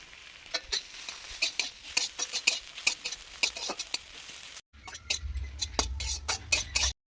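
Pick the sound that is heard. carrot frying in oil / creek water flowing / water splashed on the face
carrot frying in oil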